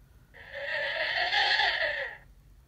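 Hyperdrive misfire effect from a Brickstuff light and sound kit fitted to a UCS Millennium Falcon LEGO model: a sustained whining, sputtering electronic drone lasting about two seconds, fairly loud and alone, fading out cleanly.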